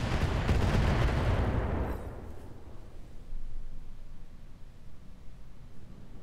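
A heavy LRM-40 missile salvo slams down in Roguetech, a loud roaring burst of impacts for about two seconds before fading into a low, rumbling wash of residual noise.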